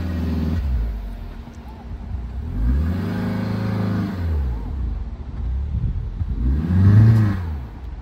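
A Baleno car stuck in soft beach sand revs its engine in repeated rising and falling surges, close and loud, with voices talking over the strained engine.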